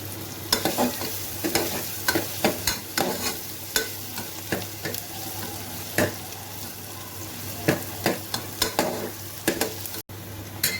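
Onion for chole masala fries in a pan, a constant sizzle punctuated by frequent, sharp, irregular scrapes and knocks of a spoon stirring it.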